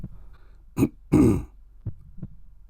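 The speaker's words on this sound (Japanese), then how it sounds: "門に立ち寄って咳払いをした" A man at the gate of a house clears his throat in two short, rough bursts, the second longer and heavier, followed by a couple of soft, brief throat sounds in an otherwise quiet setting.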